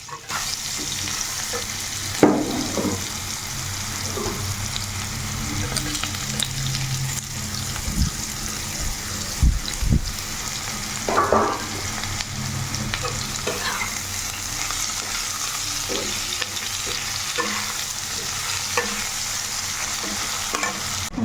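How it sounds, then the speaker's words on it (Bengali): Potatoes and steamed radish fry together in a pan, a long even sizzle with repeated scraping and tossing strokes of a spatula and occasional metal knocks, close and steady, no one speaking. "মূলোটাও আলুর সঙ্গে বেশ ভালো করে একটু ভেজে নেবো"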